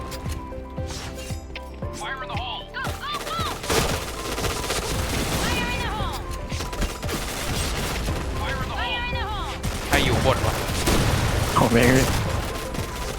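Bursts of gunfire in the shooter game Point Blank, scattered loud shots and rattling volleys throughout, mixed with game effects while people talk in Thai over it.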